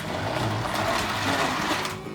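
A steady mechanical growl with a grinding, whirring texture from the motor of a Lionel 2034 toy steam locomotive, running continuously and fairly loud throughout despite lubrication.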